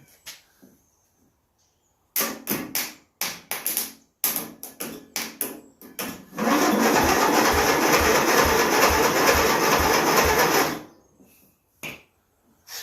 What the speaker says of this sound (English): What I heard I heard the engine turning over.